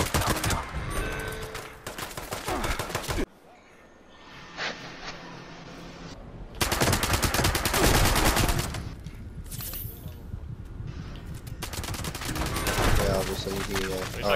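Video game gunfire rattles in long, loud bursts of rapid automatic fire, separated by quieter lulls with faint ambient noise, and a voice talks intermittently between the volleys.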